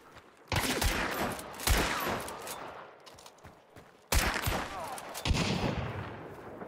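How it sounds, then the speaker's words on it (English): Bursts of rapid gunfire ring out in a shooter video game, two long volleys separated by a short lull, loud and close, with brief voice chatter between. "Shooting. Keep shooting for me."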